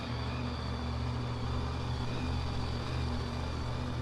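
Loud, steady engine roar of a supercharged drag radial race car at an Australian radial racing meet, a continuous dense rumble with no talking.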